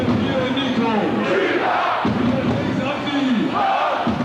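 A standing-room-only ice hockey arena crowd cheers and chants at a German league game between Adler and the Hanover Scorpions, a loud, dense roar with rising shouts.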